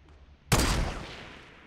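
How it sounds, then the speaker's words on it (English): A single sharp, loud sniper rifle shot in Fortnite cracks out of a quiet background, then a broad echoing tail fades over about a second. "Make this shot count!"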